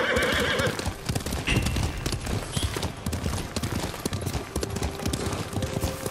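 Horses galloping in the video game Ghost of Tsushima: rhythmic hoofbeats under a loud whinny, with clattering and rumbling motion throughout, close and steady.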